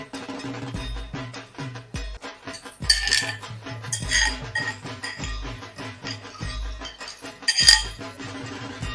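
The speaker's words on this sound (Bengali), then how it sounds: "এবার টক দইটা দিয়ে আমি কিন্তু কনস্ট্যান্ট এটা নেড়ে যাব" Utensils scrape and clink against a pan as sour yogurt is stirred into a Bengali prawn curry, with repeated metallic knocks and a few sharper clanks, close up and with no talk.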